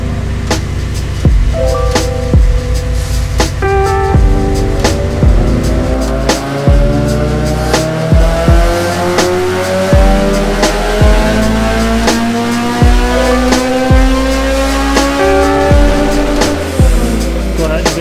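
A Honda Civic Type R (EP3) engine revs up steadily through the gears on a dyno, rising pitch again and again with loud harmonics, punctuated by sharp clicks at each shift.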